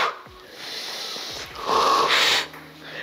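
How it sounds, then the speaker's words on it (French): A woman breathes through a seniors' exercise routine, with steady audible inhales and exhales and a louder, harder breath near the end, close and alone without talk. "vous pouvez entendre chouchou, elle continue à respirer"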